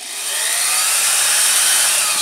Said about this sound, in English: So I turn the drill on.